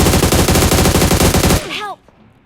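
Rapid, loud gunfire in the mobile battle-royale game PUBG Mobile, with AMR sniper rifle fire among the shots, keeps up a dense, rhythmic burst before cutting off abruptly into a brief fading tail.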